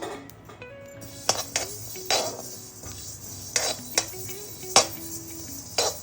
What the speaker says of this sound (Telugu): నువ్వులు వేస్తున్నాను.